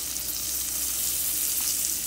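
Ahi tuna steak frying in butter in a cast iron pan, a steady close sizzle with light crackle running evenly throughout, no voices.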